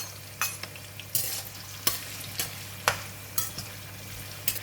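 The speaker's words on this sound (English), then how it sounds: "We're going to fry the shallots until crispy and brown" Thinly sliced shallots fry in hot oil with a steady sizzle, broken by several sharp stirring scrapes at regular intervals, close up, with no voices.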